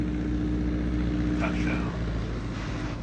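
A floatplane landing on a river in inland Alaska, its propeller engine droning loud and steady throughout with a faint swell of water as it settles, and someone talking over it.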